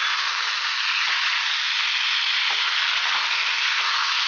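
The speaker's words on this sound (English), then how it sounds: "I'm going to add 500 grams of diced potatoes" Diced potatoes frying in a pan for aloo matar masala give a loud, steady, dense sizzle that runs unbroken throughout, with a few faint soft knocks underneath.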